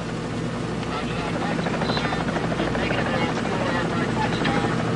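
Helicopter rotors thump steadily aboard a ship, a continuous loud chopping drone under faint voices.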